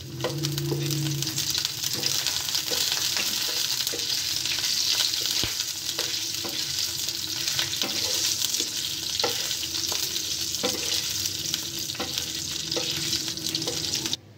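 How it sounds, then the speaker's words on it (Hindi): Two red chillies and red chilli powder sautéing in hot oil for a dhaba-style chana dal tadka, a continuous loud sizzle and crackle with occasional spoon stirring taps, close up and without talk. "अब हम इसमें दो लाल मिर्च ऐड करेंगे हाफ टी स्पून दातर मिर्च ऐड करेंगे और इसको साटे कर लेंगे थोड़ी देर के लिए"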